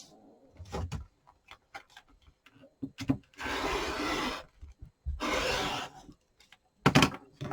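A quilt block of fabric is trimmed, with two sustained close rasping cuts between scattered light handling taps and clicks, no voice.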